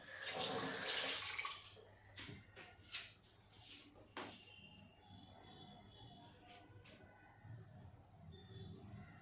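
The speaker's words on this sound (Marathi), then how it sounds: "मी आता हात धुवून येते" Hands are washed under a running kitchen tap during cooking: a loud gush of water at first, then softer splashing, rubbing and dripping sounds, close and without talking.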